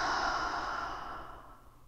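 One long, close exhale during a breathing exercise in an energy medicine routine, a steady breathy rush that slowly fades over about two seconds.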